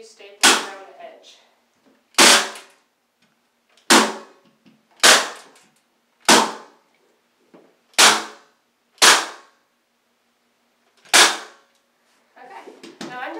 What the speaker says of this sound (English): you probably noticed I wasn't very good with this staple gun